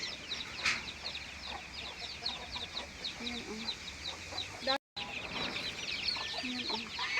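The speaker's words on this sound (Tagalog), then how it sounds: "Ang dami niyang manok, oh." Chickens cluck repeatedly in a busy, overlapping chorus from a flock nearby outdoors, with a brief exclamation from a person partway through.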